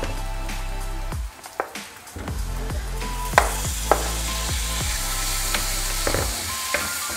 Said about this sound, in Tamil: இஞ்சி பூண்டு பேஸ்ட் போட்டுப்போம்.